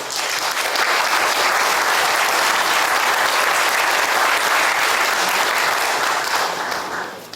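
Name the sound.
applause welcoming the praise team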